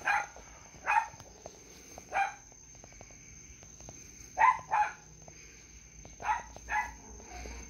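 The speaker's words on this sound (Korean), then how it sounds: "개가 짖는다" A dog barks in short pairs of sharp yaps at a calligraphy classroom, three double bursts spread across the stretch, fairly distant and faint over a quiet room with a steady high hum.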